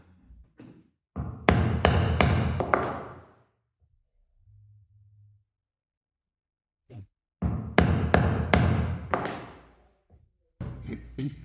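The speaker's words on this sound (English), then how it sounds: "now I also want to mark our stitch line and punch those holes already" Leather being punched for stitch holes with a pricking iron and mallet, two loud bursts of close, rapid knocking strikes separated by quiet pauses, with a short low hum between them.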